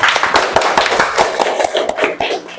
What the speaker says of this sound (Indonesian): Oke, tepuk tangan semua. Tepuk tangan